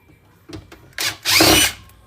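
Power drill backing screws out of a desktop PC case: two tiny taps, a short whir, then a louder, longer buzzing burst, all close and without talk.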